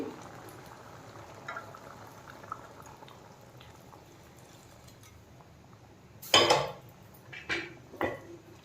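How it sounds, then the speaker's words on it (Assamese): Hot water is poured from a vessel into a pot of cooking chana dal, giving one short, loud splashing gush. Softer clinks of utensils and a few more brief liquid sounds follow over a quiet kitchen background. "এতিয়া গৰম কৰি লোৱা পানীখিনি দি দিম।"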